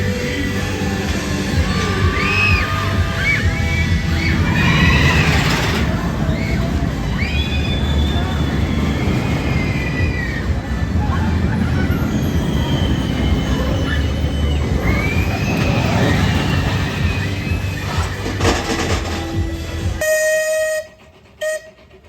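Roller coaster trains with new cars rumble and roar along the track at Hersheypark, with long wheel squeals and rattling under a busy crowd and talk, loud and near, then cutting to quiet near the end.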